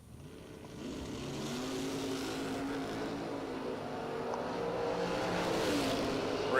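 Drag racing cars on the strip, including a 1966 Chevelle, roar in a steady, building engine drone that grows louder toward the end, with no talk over it.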